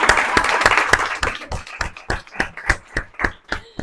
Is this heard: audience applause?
yes